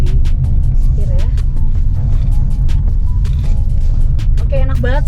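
Toyota Yaris Cross Hybrid SUV steering through a zigzag maneuver, its steady low road and engine rumble continuous and close throughout, with brief tonal squeaks and a voice talking over it.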